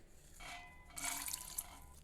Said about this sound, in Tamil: காய்கறி வேகிறதுக்கு மறுபடியும் இதில் ஒரு கப் தண்ணி சேர்த்துறேன்